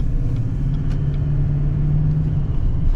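A vehicle rumbles past steadily on a road beside a parked 2020 GMC Sierra 3500 Denali truck, a low, even drone that holds for a few seconds without a clear rise or fall.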